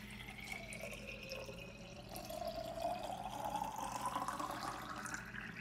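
Water poured into a child's drink bottle, a quiet steady stream whose pitch rises as the bottle fills, with no talking over it.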